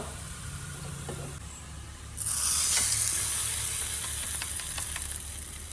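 Mustard seeds and curry leaves sizzle in hot oil for tempering a South Indian elephant foot yam kootu, a quiet background crackle that jumps to a loud, bright, steady hiss partway through.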